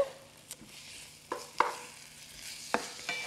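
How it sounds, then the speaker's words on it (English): Asparagus sautéed and stir-fried in a pan, a soft ongoing sizzle broken by several sharp scraping clacks of a utensil against the pan, close and alone. "we're just going to kind of saute it, stir fry it, get all of those flavors blended together"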